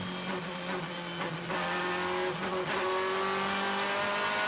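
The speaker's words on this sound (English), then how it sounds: "Bernd Schneider, your leader, putting in the fastest lap" DTM touring cars lapping the Spielberg circuit in 2001 qualifying, engines screaming at high revs with rising pitch as cars pass, a loud continuous roar with no talk over it.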